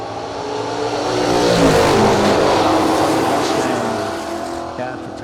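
An SN95-era Mustang and a 1968 Camaro roar down a drag strip side by side, their engines a loud sustained rumble that swells and fades slightly as they pass.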